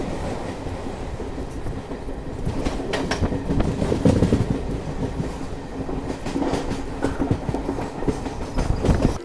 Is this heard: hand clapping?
no